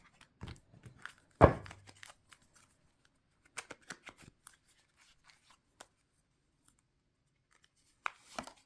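A deck of tarot cards cut into piles, with sparse, faint card slaps and shuffling snaps in a quiet room, one sharper slap standing out near the start and a brief flurry at the end.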